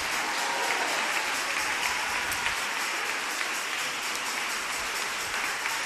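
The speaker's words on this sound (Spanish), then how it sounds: "Aplaude como aguacero." Steady, continuous applause from a church congregation at a Yom Teruah service, dense and sustained throughout like heavy rain, with no clear pauses.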